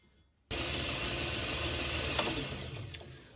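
Grinder trimming the corners of thin knife handle scales on a Damascus-leftovers knife build: a sudden loud, steady abrasive whir begins after a short quiet moment and holds close and continuous, with no talking.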